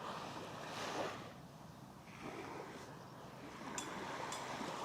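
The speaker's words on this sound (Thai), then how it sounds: "ให้ท่านได้ยินเสียงของคลื่นนะครับ คลื่นลูกแล้วลูกเล่าที่กระทบมายังชายหาด" Ocean waves wash onto the beach at Pattaya, Thailand, in a steady, soft surging roar, with wind rumbling across the microphone.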